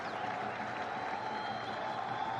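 Cricket crowd applauding a batsman's fifty in a Pakistan versus Australia ODI, a steady wash of clapping and cheering from the stands, held at an even level throughout with no pauses.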